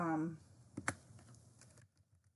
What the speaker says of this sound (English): Let me just type this out for you because it's so important.